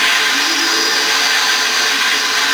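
A guitar built to resemble the Millennium Falcon, played through a cranked amp, produces a loud, steady broadband hyperdrive roar that holds without a break, with a slight shimmering texture throughout.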